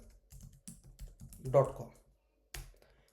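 Typing on a computer keyboard, entering a web address into a browser: a short run of light key taps with a brief louder cluster, mixed with low voice sounds, then a pause and one last tap.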